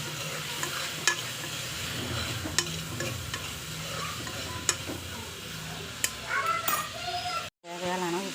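Ginger garlic paste and curry leaves being stirred in a frying pan for Kerala-style pepper chicken, with a steady sizzle and a few sharp scraping clicks of the spoon against the pan throughout.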